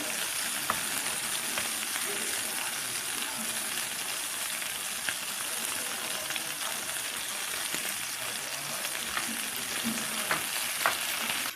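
Homemade sausage stir-fries in a pan with a steady, close sizzle and crackle, broken by light scraping and tapping of the utensil against the pan.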